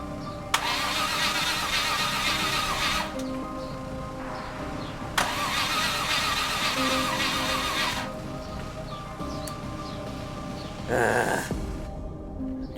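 A car engine cranks repeatedly and fires up, the starter grinding in long bursts with short pauses between attempts, fairly loud and close, with no talking over it.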